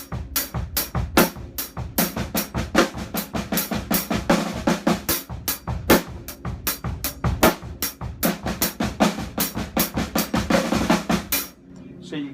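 Drum set groove with flams on every other snare hit over steady hi-hat eighths and bass drum, a driving repeating pattern played close and loud for several bars before stopping, no speech.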